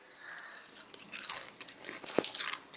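Crisp fried Narasingha leaf fritters bitten into, a couple of sharp close crunches followed by lighter crackly chewing, with no talk.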